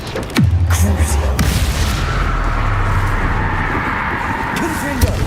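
The Crucio curse cast in the game Hogwarts Legacy, a sharp impact followed by a deep, rumbling boom and sustained low whoosh, loud and close, with a few later sharp hits, with talking mixed in.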